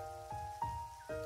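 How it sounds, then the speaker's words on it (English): Raindrop sound effect from the puzzle game Lemmings, a few soft, distinct drip taps spaced about half a second apart over a sustained, quiet musical tone. "raindrops falling."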